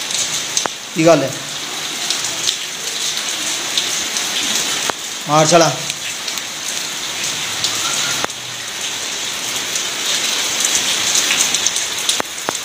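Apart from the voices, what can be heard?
heavy rain falling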